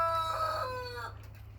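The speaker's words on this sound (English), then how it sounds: "Oh, and there's the rooster watching." A rooster on a farm finishes a crow, its drawn-out tail fading over a low background hum, then the sound falls quiet.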